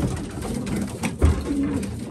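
Pigeons cooing in a loft among the birds' boxes, a soft low murmuring coo that swells briefly in the middle against a steady rustling background.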